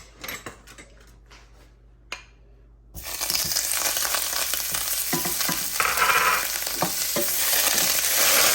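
Butter starts melting in a pan on a stovetop for a chicken-wing dipping sauce, a few quiet clicks and knocks giving way after a few seconds to a steady, loud sizzle.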